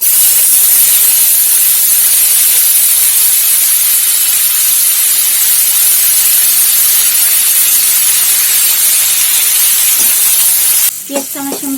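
Chopped onions hit hot oil that has already fried chicken, with cumin and bay leaf, giving a loud, steady sizzling hiss. Near the end it breaks off into a few clattering stirring sounds.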